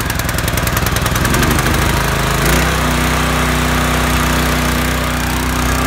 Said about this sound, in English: it's you and me, pressure washer. See if we can go first pull.